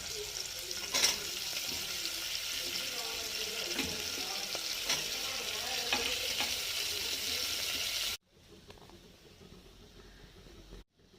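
Carrots frying in a salted pan, a moderate steady sizzle with a few sharp utensil clicks for about eight seconds, then an abrupt drop to a faint hiss with quiet background noise.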